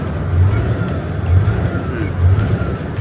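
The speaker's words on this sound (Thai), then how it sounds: "ผมจะเหยียบคันเร่งเหมือนเดิมนะครับ" A Hino 380 truck engine revs as the accelerator is pressed, giving a steady low rumble with repeated swells in intensity, close by and with no talk over it.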